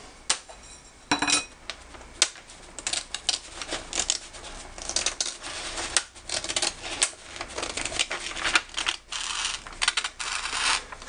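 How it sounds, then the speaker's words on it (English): Snips cutting out a sheet metal pattern for an offset transition, a steady stream of sharp clicking and crunching snips at close range with irregular rhythm and small metallic clinks, no talking. "Now, for the heck of it, I'm going to cut this pattern out."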